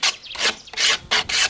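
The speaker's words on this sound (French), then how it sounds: "Donc déjà je vais gratter un peu," Repeated scraping strokes inside a beehive swarm trap to clear out debris, heard as about five close, loud, rasping rubs in an uneven rhythm with short pauses between them.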